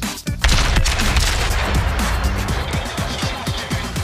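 Ship guns firing in the naval combat video game World of Warships, with a rapid series of sharp, loud cannon blasts and booms that keep sounding across the whole stretch.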